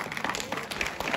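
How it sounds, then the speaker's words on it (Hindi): Audience applause at a school award ceremony during a forest-fire safety week event, a dense wash of many hands clapping steadily and close for a brief moment. "तालियां बजा बहुत अच्छे तरीके"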